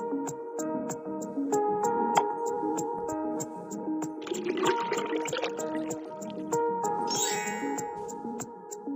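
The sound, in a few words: pouring food coloring into a bowl of vinegar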